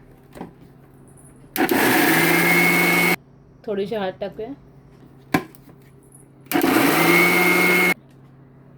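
A mixer grinder whirs with raw mango and water inside, running in two loud, steady bursts of about one and a half seconds each, with someone speaking briefly in the pause between them.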